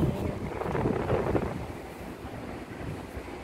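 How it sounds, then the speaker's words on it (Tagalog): Strong wind on a cold Hong Kong morning buffets the microphone in a steady low rumble, gusting harder early on before settling into a constant roar. "Ala, sobrang mahangin guys. Ang hangin."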